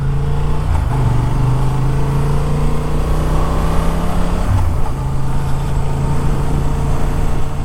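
A Honda Transalp XL 750 with a 750cc parallel-twin engine rides along a service road, its loud, steady engine drone close and continuous, with a brief shift in pitch midway.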